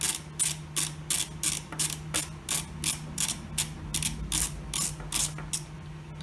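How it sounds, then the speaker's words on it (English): A screw is being backed out of a rifle trigger guard, producing a close series of about a dozen crisp ratcheting clicks at a steady rhythm over a quiet mechanical background. "you will remove this screw here from the trigger guard"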